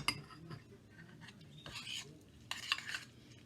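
A spoon stirs deviled egg filling seasoned with garlic powder and pepper in a bowl, giving soft scraping and a few sharp clinks against the dish, close and fairly quiet.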